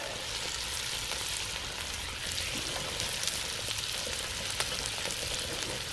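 Breakfast sizzles steadily in a 10.5-inch skillet on an ammo can rocket stove, a constant close frying hiss with faint crackles and no talking.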